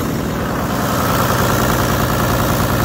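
A Toyota Land Cruiser diesel engine runs rough at idle, a steady, loud, close rumble with an uneven low throb, alone with no voices over it.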